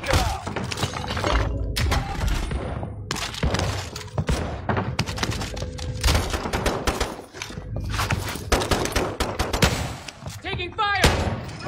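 Rapid bursts of gunfire and explosions in Call of Duty Warzone, dense overlapping shots and impacts in quick succession, with voices talking over the fighting.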